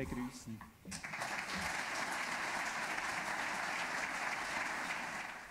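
A conference audience at a plenary session breaks into applause after a short quiet moment, a broad steady roar of many hands that holds strong and fades slightly at the end.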